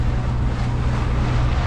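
A sailboat motors under mainsail and staysail at 1800 rpm, its engine a steady low drone mixed with wind buffeting and rushing water, continuous and close for a brief moment with no talk.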